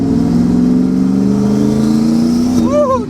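A turbocharged Ford 5.0 with a Paxton setup and an On3 single 76/75 turbo kit runs loud and steady on a dyno, its note rising slowly before sweeping up sharply near the end.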